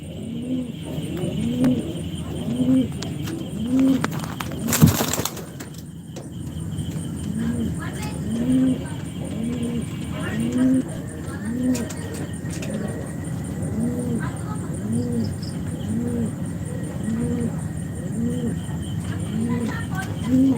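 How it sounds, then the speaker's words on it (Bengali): High-flying breed pigeons coo over and over at a pigeon farm in a steady, rolling rhythm, with a brief sharp knock partway through and faint insects in the background. "হাই ফ্লাইং কবুতর"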